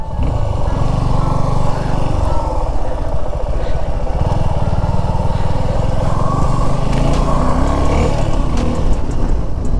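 A Suzuki V-Strom SX 250 motorcycle engine runs steadily and loudly up close through a slow U-turn, a continuous low rumble with traffic-like noise around it and no pauses.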